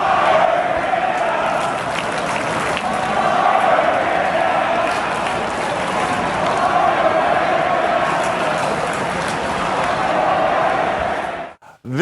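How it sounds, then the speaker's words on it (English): A packed NHL arena crowd in Pittsburgh chants in unison, a loud sustained roar of many voices rising and falling for several seconds before cutting off abruptly near the end. "the entire crowd is chanting about firing Matt Canada, the offensive coordinator for the Pittsburgh Steelers"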